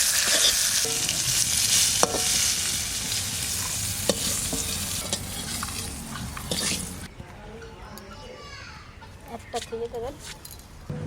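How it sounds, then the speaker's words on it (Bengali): Vegetables, including yardlong beans, sizzle loudly in a hot pan with occasional stirring scrapes, then the frying quiets down while faint voices and clucking chickens come through. "ভাজাভাজি হয়ে গেছে সব কিছু"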